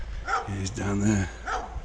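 A dog barking a few times in the distance along a village lane, deep woofs close together, heard under a nearby voice.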